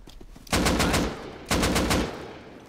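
Two loud, close bursts of rapid automatic fire from an automated turret in the survival game Rust, each lasting about half a second, separated by a short gap.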